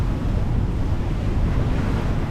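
Strong wind roars across an open microphone on a sailboat in the Caribbean, with a heavy, churning rush of water and surf underneath, loud and constant throughout.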